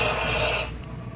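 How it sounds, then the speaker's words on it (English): 3M cavity wax sprays from a 360-degree nozzle into the frame rail of a Subaru Outback in one loud, steady, close hiss that cuts off sharply before the short clip ends. "So I have some 3M cavity wax here, and I'm gonna hose this"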